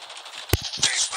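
A single sharp sniper rifle shot in the Call of Duty video game, one punchy report midway through a short stretch of background game noise.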